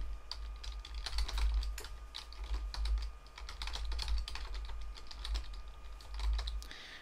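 Steady, rapid keystrokes on a computer keyboard as a name, email address and password are typed in, a continuous clicking patter with brief pauses, close and clear over low background hum.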